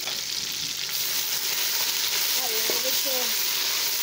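Green chillies dropped onto browned onions in a hot pan for pulao, giving a loud, continuous sizzle close by with faint brief tones over it and no speech.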